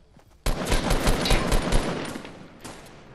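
Shotgun fire in Fortnite Battle Royale during a squads match, a loud sudden burst of shots starting abruptly and continuing in a dense rattle before tapering off, close and alone.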